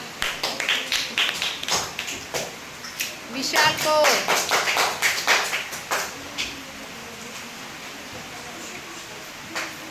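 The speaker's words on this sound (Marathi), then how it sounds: "चला टाळ्या वाजवा" Children clap in a classroom in uneven, scattered bursts that thicken briefly into a quick cluster of claps before thinning out again, with a teacher's voice speaking between them.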